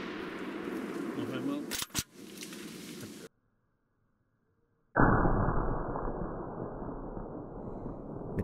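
A single sharp hunting rifle crack in the open during a wild boar hunt in Pomerania, followed by a brief dead silence and then a steady broadband rush of outdoor noise.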